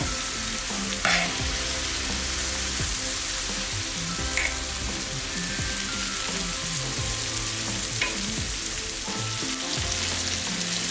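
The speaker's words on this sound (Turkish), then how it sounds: "Şöyle domateslerimizi de biraz ortaya doğru toparlayalım." Tomatoes sizzle steadily in a hot frying pan with chicken for saç kavurma, with a few sharper clinks and scrapes of stirring breaking through the continuous crackle; soft background music plays underneath.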